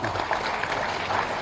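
Brief burst of audience applause at a college closing ceremony in Vizag, a dense patter of many hands clapping at once.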